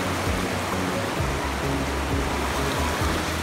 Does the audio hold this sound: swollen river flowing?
yes